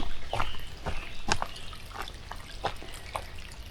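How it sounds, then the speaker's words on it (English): Water spilling over a small creek waterfall during a hike, a soft, steady trickle with bright splashy drips and gurgles rising now and then at moderate distance. "I almost missed that waterfall."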